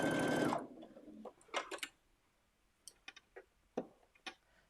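A sewing machine runs a short burst while basting fabric, then pauses with scattered clicks and light handling, slow and close in a quiet room.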